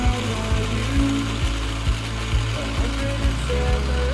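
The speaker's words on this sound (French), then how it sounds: "On va commencer par prendre des noisettes décortiquées pour faire une pâte de noisettes. On la mixe bien, assez finement." Shelled hazelnuts grind in a blender into a fine paste, a loud steady motor drone with regular rhythmic knocks and rattles as the nuts churn, close up and without speech.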